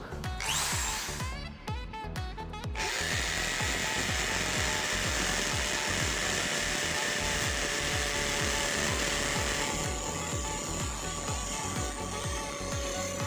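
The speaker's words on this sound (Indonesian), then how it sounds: "Di sini saya menggunakan mata bor dengan ukuran 10 mm terlebih dahulu." An impact drill with a 10 mm bit grinds steadily into a paving block, a loud continuous mechanical roar with a rattling hammering pulse, running throughout after a brief start.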